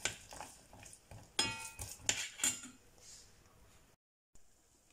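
Chopped unsalted cashews are stirred in a bowl with a utensil, giving several scraping, clinking knocks in an irregular rhythm at low volume before a brief silence.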